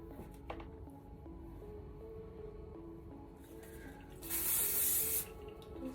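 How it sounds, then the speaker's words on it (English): A single steady hiss of hairspray lasting about a second is sprayed onto hair freshly curled with a straightener. It cuts in sharply over a faint background of small handling noises and stops abruptly. "Just give it a spray."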